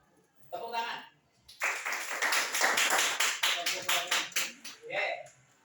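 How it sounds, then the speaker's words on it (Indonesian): A class of vocational high school students applauds in a classroom with a burst of hand clapping lasting a few seconds. Brief speech comes just before and after it. "Tepuk tangan."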